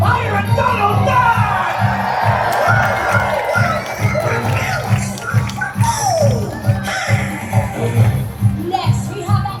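Crowd cheering and children shouting for Pirate Donald Duck at Disney's Castaway Cay, a loud sustained swell of voices over thumping party music that carries steadily throughout.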